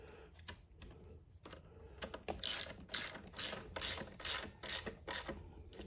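A hand ratchet clicks steadily as it tightens a bolt on a Predator 2000 inverter generator during a propane conversion, with quick bursts of close, crisp pawl clicks that grow louder and more rapid toward the end.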